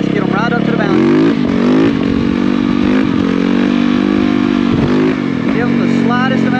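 A motorcycle engine revs hard and holds a loud, buzzing drone while the bike is lifted into a wheelie, with a voice talking over it throughout.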